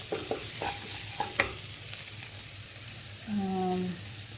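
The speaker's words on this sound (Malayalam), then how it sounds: "അത്യാവശ്യം ഉപ്പ് ചേർക്കാം നന്നായിട്ടൊന്ന് ഇളക്കാം" Salted pumpkin soup with vegetables being stirred in a pan, a close, steady sizzle with several sharp spoon scrapes and knocks early on, then a quieter simmer.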